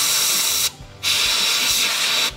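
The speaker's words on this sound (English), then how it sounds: "dust your entire dispenser with your can of compressed air" A can of compressed air blows dust from an ATM cash dispenser and its sensors, giving loud hissing bursts: a long blast, a short pause, then a second long spray, close up with no talking.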